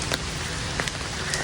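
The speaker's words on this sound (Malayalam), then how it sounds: "മഴ ഒട്ടും കുറവില്ല, പക്ഷെ ഇപ്പം ചെറുതായിട്ടൊന്ന് ചാറിൽ മാത്രമേ ഉള്ളൂ." Light drizzle falling in Mawlyngbna, Meghalaya, a steady soft hiss with a few faint scattered drop ticks, continuous throughout and fairly quiet.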